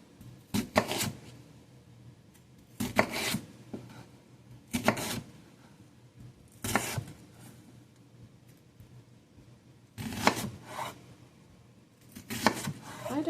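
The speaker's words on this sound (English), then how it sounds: "it says cut the onion in half-moon slices" An onion is sliced into half-moon pieces on a board, a handful of separated chopping knocks spaced out with pauses between them, close and fairly clear over a quiet room.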